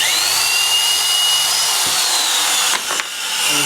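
A power drill bores dowel holes in wood, holding a loud, steady high-pitched whir close by that dips briefly near the end, with no talking.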